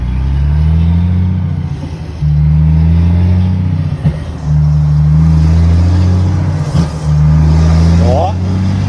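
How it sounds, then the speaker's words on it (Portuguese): A Volvo FH truck's engine brake runs in its second stage, a loud deep drone in long steady pulses broken by brief dips. It sounds close up, with people talking over it. "Freio o motor. Tá no primeiro, no segundo estágio lá no painel lá."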